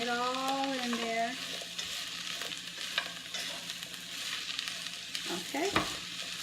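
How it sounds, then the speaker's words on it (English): Rainbow kale stirred in a hot skillet, a steady frying sizzle with scraping spoon strokes throughout; a voice speaks briefly near the start. "I'm using rainbow kale, but you can use regular kale. Stirring it all in there."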